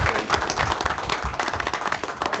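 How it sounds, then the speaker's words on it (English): An audience at a county board of commissioners meeting claps in a brief, moderately loud burst of steady applause. "So we'd like to applaud you again."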